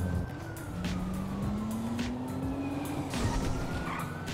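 A steady police siren in a video game wails with a slowly rising tone over a constant engine rumble, sounding close and continuous throughout.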